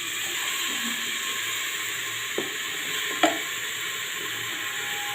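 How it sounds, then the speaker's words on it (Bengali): Salt-and-turmeric-marinated mutton goes into a hot pan and fries with a steady, even sizzling hiss, broken by a couple of sharp clatters from a utensil, close by with no voices. "এবারে নুন হলুদ মাখানো দিয়ে দিচ্ছি মাংসটা।"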